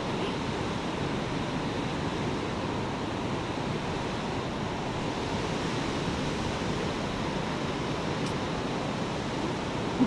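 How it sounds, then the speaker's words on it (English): Small outdoor waterfall giving a continuous broadband rushing hiss, steady and even throughout, with faint wind buffeting the microphone. "Right here we got this little waterfall right here."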